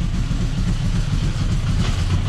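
BMW 318 IS engine running rough, a dense, loud low rumble with an uneven, lumpy churn heard up close and steady throughout, with no talk.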